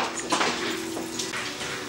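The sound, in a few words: rinsing hands under running tap water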